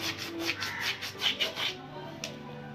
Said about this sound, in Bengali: জোয়ান আমি হাতের তালুতে একটু করে এটাকে আমি ঘষে দিয়ে দিচ্ছি।